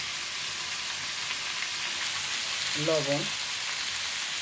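Vegetables frying with turmeric and spices in a pan for a rui fish curry give a steady, even sizzle, with a brief spoken word partway through.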